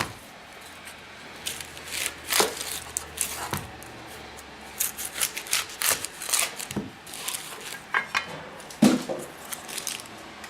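A knife cuts the ends off onions on a cutting board, making a string of crisp chops and cutting-board knocks in an irregular rhythm, close by, with no voices.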